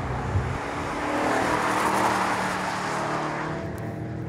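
An Audi RS5 lapping the Ascari race circuit, its engine a steady loud roar at speed that swells slightly mid-run and holds without a break, no talk.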